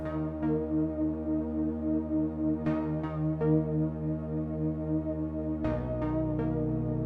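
A dark chord and melody pattern from a beat made in FL Studio plays as synth chords with plucky attacks and a deep sustained low bass layer entering near the end, with no talk.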